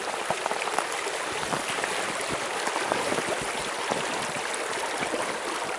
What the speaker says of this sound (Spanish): Y comienza el río.